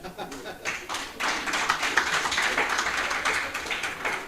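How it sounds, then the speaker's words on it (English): Many people clap together as an audience at a conference closing ceremony, a dense and steady patter of hands with voices mixed in underneath. "Please let us give her another big round of applause."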